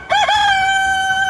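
A single rooster crows close by, a rising call that settles into a long, sustained harmonic note, loud and clear with no talking.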